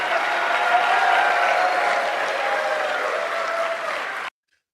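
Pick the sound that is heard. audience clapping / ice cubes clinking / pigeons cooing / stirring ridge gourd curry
audience clapping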